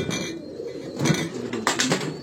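Pigeons on a rooftop in Lahore give soft, throaty coos, a few low gurgling calls close by over faint background noise, with no talking.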